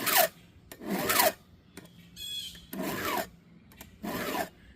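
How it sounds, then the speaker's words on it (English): A round file rasps against a chainsaw chain tooth in five slow, deliberate sharpening strokes, each a gritty scraping swipe with short pauses between, close and fairly quiet. "So you put the round file inside of the tooth."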